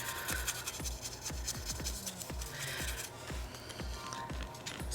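A paintbrush scrubs paint onto a wet sola wood flower in quick, repeated rubbing strokes, close and fairly soft, with a steady rhythm of short scratchy bursts.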